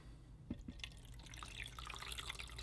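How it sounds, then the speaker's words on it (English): Water splashes and trickles into the tank of an ultrasonic cleaner, starting with a couple of close drips and then a steady, light pour. "Now I'm going to add some water."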